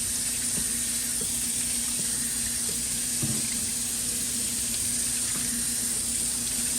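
Tap water pours steadily onto a 3D printer PEI plate being rinsed at a sink, a constant close rush with faint bumps and handling underneath.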